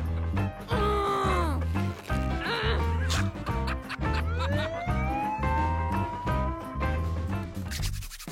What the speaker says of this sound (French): Les sirènes signalent une urgence.